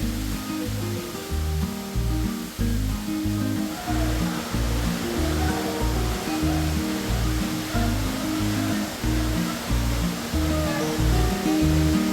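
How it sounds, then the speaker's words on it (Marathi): Waterfall at Ojharde-Navaja in Satara, a constant broad rushing roar of falling water that runs the whole time beneath a loud, rhythmic music track. "जाताना वाटेत अनेक छोटे मोठे धबधबे पर्यटकांच्या डोळ्यांचं पारणं फेडतात"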